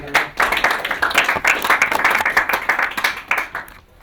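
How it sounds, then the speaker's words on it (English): Audience claps for a presenter at a collaborators' meeting, a short burst of fairly close, crisp clapping from a modest group that swells and then tapers off near the end. "Round of applause for Jill."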